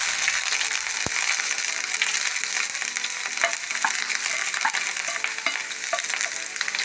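Chopped ginger fries in coconut oil in a pan, a steady close crackle and hiss with light stirring clicks running throughout, no voices.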